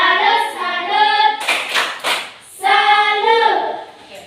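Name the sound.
group clapping, a 'tepuk salut' applause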